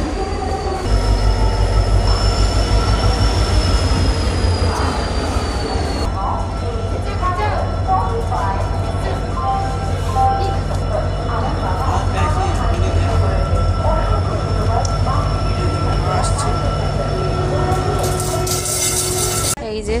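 Passenger train running on the rails, a loud continuous rumble heard from inside the carriage with a high wheel squeal early on, rattling and clatter, and people talking throughout.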